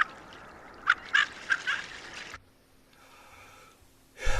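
Several short, rough calls from small diving ducks in quick succession, then near silence with a faint hum, and a final soft burst at the end.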